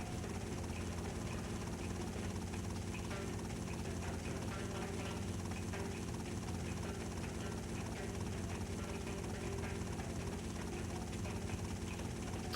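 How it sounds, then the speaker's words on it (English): Helicopter in GTA: Vice City Stories, a steady rotor and engine drone running throughout at constant loudness, dense and continuous with no pauses. "I think this is not how patients get picked up in helicopters normally."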